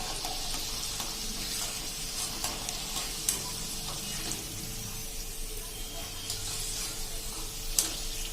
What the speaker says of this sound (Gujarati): આપણે તેલમાં જો આ સિંગ ભુજિયાના દાણા નાખ્યા પછી આપણે ગેસની ફ્લેમ મીડિયમ રાખવાની છે